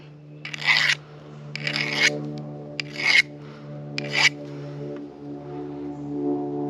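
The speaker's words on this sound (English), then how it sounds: "You'll get yourself a nice little file like this." A small hand file rasps a burr off a 3/8 quick connect fitting in four distinct strokes, close and clear, over a steady low mechanical hum.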